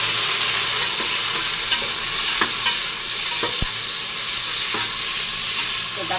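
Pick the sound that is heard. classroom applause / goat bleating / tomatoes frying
tomatoes frying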